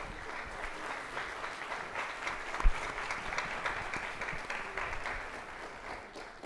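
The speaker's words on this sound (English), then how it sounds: "Everybody give him a big round of applause." Audience applause after a Trump-or-Harris debate, sustained even clapping from a crowd with one louder thump partway through.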